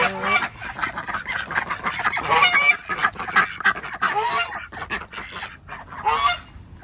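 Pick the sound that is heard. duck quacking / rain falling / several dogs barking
duck quacking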